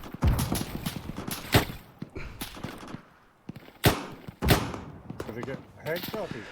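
Gunfire in the video game Arma 3 comes in sharp separate bursts and single shots, some loud and near, with gaps between volleys and voices talking over radio-style chatter.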